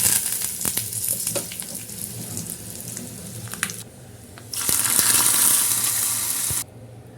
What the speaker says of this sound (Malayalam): എണ്ണ ചൂടായിട്ടുണ്ട് കേട്ടോ നമുക്ക് കടുക് ഇട്ട് കൊടുക്കാം അതിലേക്ക് ഇത് വറ്റൽമുളകും ഇട്ട് കൊടുക്കാം